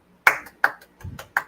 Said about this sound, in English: My turn for applauding.